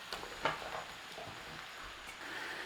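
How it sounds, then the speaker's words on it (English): Vegetables tossed into a pot and starting to fry, a soft sizzle with a few faint clatters and taps near the start, quiet and close. "we're just going to start by throwing our veg in"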